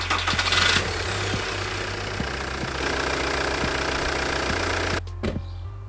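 An Audi A4 TDI diesel engine cranks and catches after a timing belt change, then settles into a steady, rattly idle with rhythmic knocking, close and loud, cutting off near the end.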